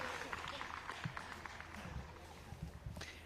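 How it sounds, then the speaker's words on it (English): A crowd at a disc golf final round applauds and cheers in a sustained, fairly distant wash of clapping, with talk mixed in throughout. "you hear the reaction from the crowd"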